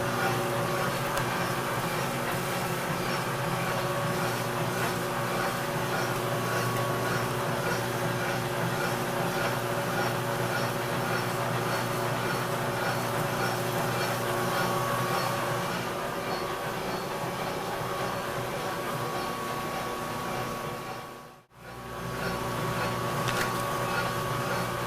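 A machine tool cutting the extremely hard top of a bar in a workshop, a continuous loud grinding, humming drone with a brief dip about three quarters through, no talking.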